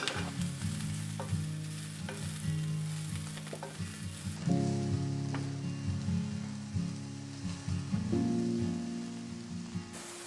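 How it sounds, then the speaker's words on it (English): King oyster mushrooms sauté in a pan for a plant-based noodle dish, a close, lively sizzle and crackle with scraping stir strokes and a low tonal hum running beneath. "King oyster mushroom. Saute for 1 to 2 minutes."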